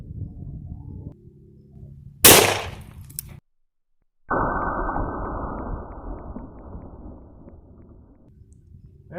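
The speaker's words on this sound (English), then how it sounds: "We'll shoot at 7 yards to give this skinned tomato another chance to" A sharp, loud magnum rifle shot fired from seven yards at a skinned tomato cracks once and stops short, followed after a pause by a burst of clattering, rustling noise that fades out.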